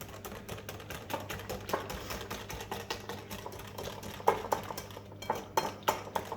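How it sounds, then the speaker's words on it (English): Yorkshire pudding batter whisked briskly in a bowl, a quick, steady run of close metallic ticks and clinks with no talking. "Keep on whisking"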